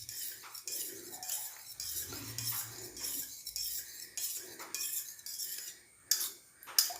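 An herbal hair-wash paste is stirred in a vessel with a spoon, giving repeated scraping clinks of metal against the pot at an uneven rhythm, fairly close.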